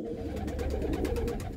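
Pigeon coo from a female racing pigeon, a steady low throaty cooing that runs through the whole moment, close to the listener, with no talking over it.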